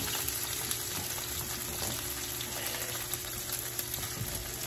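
Bunker fish, caught and cleaned, frying in a pan; a steady, close sizzle with soft crackle runs throughout, with no talking.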